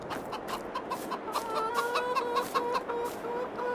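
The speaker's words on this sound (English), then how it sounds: "We'll come over here and check on the chickens." Chickens cluck repeatedly in the Farming Simulator 22 game on a PS5 farm, a steady run of close, moderately loud clucks layered over a soft ambient bed with no talking.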